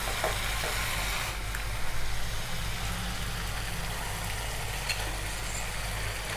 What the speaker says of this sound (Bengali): এটাকে এবার ভালো করে একটু ভেজে নিতে হবে, তারপরে চিকেনটা দেব